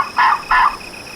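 A wild turkey gobbler, a longbeard, gobbles twice in quick succession, two loud rolling bursts at fairly close range outdoors with no talk over them.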